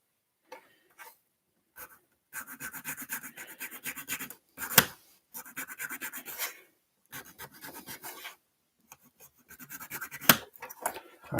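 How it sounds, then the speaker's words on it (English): Hand file rasping against a plastic Game Boy shell in short bursts of quick back-and-forth strokes, close up and separated by brief pauses. "I'm going to try to level out my filing"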